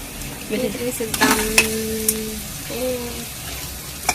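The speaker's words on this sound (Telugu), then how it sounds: "ఇది చూడండి పీతల కూర అయితే ఉల్లిపాయలు అవి మగ్గిపోయాయి" Onions sizzling in a pan for crab curry, with a steady frying hiss and the scrape of stirring. A voice briefly hums or talks through the middle.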